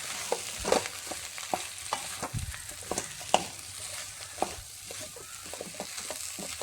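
Boiled tapioca being stirred in a pan with turmeric and salt: a soft, continuous sizzle with regular scraping and tapping of a spoon against the pan, close and fairly quiet, with no talking.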